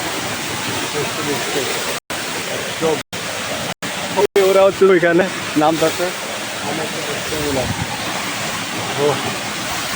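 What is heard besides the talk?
waterfall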